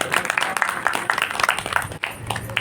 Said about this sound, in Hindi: मैं चाहूंगा गगन भेदी ताली बजाकर के हमारे विद्वानों का